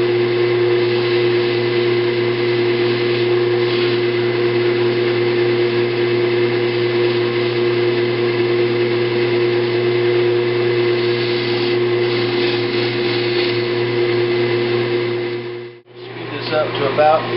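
A buffing wheel spinning at about 3,000 RPM with polishing compound works over a porthole, making a continuous steady motor whine and hum that cuts out briefly near the end before resuming.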